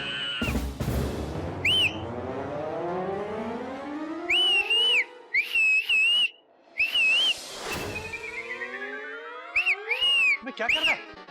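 A person in a Hindi comedy scene whistles in short, shrill, repeated bursts, mixed with sweeping tonal effects and voices.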